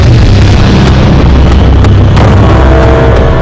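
A massive, roaring asteroid-impact explosion rumbles on continuously, deep and very loud, with crackling bursts throughout.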